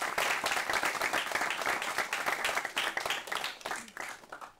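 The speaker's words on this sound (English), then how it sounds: "give RGR group of companies a round of applause" Students and staff at an internship programme ceremony give a round of applause for the RGR group of companies, brisk, even clapping that fills the room for several seconds and thins slightly at the end.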